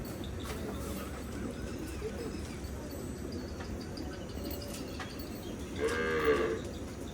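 A Kankrej cow moos once, a loud drawn-out call near the end, on a farm in Banaskantha over steady low-level background noise.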